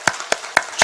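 A church congregation claps in a short burst, four distinct sharp claps spaced evenly about a quarter second apart, close and clear with no talking.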